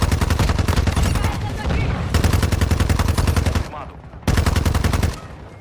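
Rapid automatic weapon fire in Call of Duty Modern Warfare II, including the TR76 Geist rifle, comes in long, loud sustained bursts, cuts off near the end, then resumes for a final short burst.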